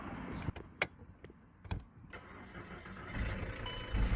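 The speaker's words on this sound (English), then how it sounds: "we're gonna start the car up just to make sure everything working fine" A VW Golf Mk5 with a replaced ignition starter switch and lock barrel: a few sharp clicks and a brief crank, then the engine catches and settles into a steady, fairly loud idle that builds toward the end.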